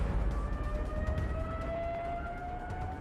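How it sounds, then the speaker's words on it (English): Stuka dive-bomber siren, the Trumpet of Jericho, wails steadily over a loud roaring rumble, its pitch drifting slowly upward through a continuous three-second stretch with no voices. "It's a siren that makes a horrendous noise when the aircraft starts its dive."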